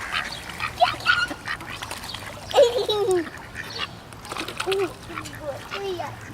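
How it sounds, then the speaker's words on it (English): Ducks quack and honk intermittently around a pond while water splashes near feeding birds, with people talking in the background. "I think we got every duck in the pond out here."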